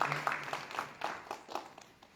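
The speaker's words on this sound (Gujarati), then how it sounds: "ફરી એકવાર તાળીઓના ગગડાટથી આપણે અગરની સાહેબને વધાવી દઈશું." Audience applause at a Gujarati literary conversation event honouring a guest, a burst of clapping that fades over about two seconds, with some faint voices underneath.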